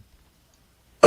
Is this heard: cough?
yes